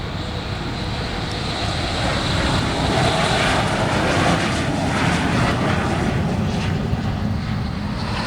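Jets of the Fursan Al Emirat display team from the United Arab Emirates fly at the Farnborough Airshow, a continuous loud engine roar with wind buffeting the microphone, steady throughout.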